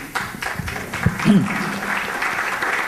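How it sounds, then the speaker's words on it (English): A conference audience at an ASEAN business summit gives a round of applause, a dense, continuous wash of many hands clapping, with a voice briefly over it. "Why don't you give him a round of applause, please?"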